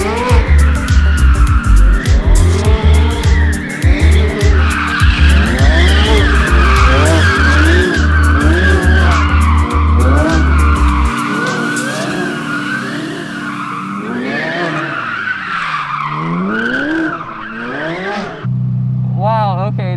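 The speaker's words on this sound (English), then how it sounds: "we gotta be sneaky and do a donut in the Speciale" Loud tire squealing and skidding over a roaring engine as a sports car spins doing a donut, engine pulsing, then pitch sweeping up and down as it slows.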